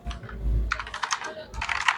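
Close computer keyboard typing, with a short soft burst of keystrokes followed by two brisk clusters of rapid clicking separated by a brief pause.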